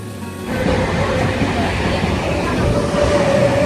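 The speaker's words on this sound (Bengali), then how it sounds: "এসে গেছে গেদে শিয়ালদা লোকাল।" A Gede–Sealdah local train stands at Ranaghat station, its loud, steady rumble and hum filling the platform after a short quieter start, with a faint tone rising toward the end.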